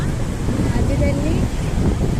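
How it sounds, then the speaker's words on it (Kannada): Wind and surf at Kannur Beach in Kerala, a steady loud rush of wind buffeting the microphone over rolling waves, continuous through the short stretch. "ಕಣ್ಣೂರು ಬೀಚ್ ನೋಡಿ, ಕಣ್ಣೂರು ಬೀಚ್."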